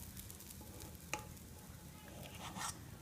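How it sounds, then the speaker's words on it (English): Soft steady sizzling of protein pancake batter on a hot griddle, with a light scrape or tap near the middle and a brief brighter hiss toward the end. "The grill's nice and hot. You can hear it start to sizzle."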